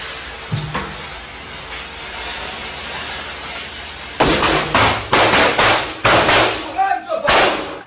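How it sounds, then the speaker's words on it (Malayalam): Several sharp firecracker bangs in quick succession, loud and close, following a stretch of steady background noise, bursting one after another. "തന്റെ സുഹൃത്തിനെ ഉറക്കത്തിൽ നിന്ന് എഴുന്നേൽപ്പിക്കാൻ പടക്കം പൊട്ടിക്കുകയാണ് ഈ സുഹൃത്ത്"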